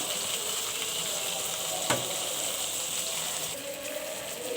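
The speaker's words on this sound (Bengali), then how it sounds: "দেখুন বেগুন ভাজিটা হয়ে গেছে।" Eggplant slices fry in mustard oil with a steady, close hiss and crackle, a single sharp clink of a utensil cutting through midway.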